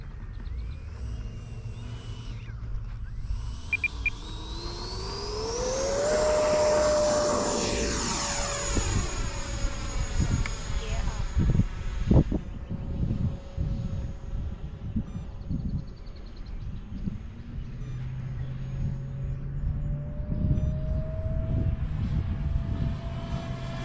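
An E-flite 70mm Viper generation one RC ducted-fan jet flies overhead, its sharp whine climbing in pitch as it approaches, roaring loudest mid-pass, then settling into a steady, fading drone.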